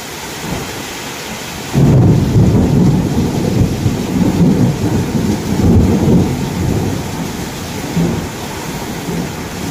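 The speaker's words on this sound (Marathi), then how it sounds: "इतका लईच पाऊस झाला म्हणजे लईच प्रमाणाच्या बाहेर पाऊस" The first rain of the season pours down extremely hard: a dense, steady roar of falling water that surges in loudly after a brief quieter start, with low thunder rumbling underneath and no voices.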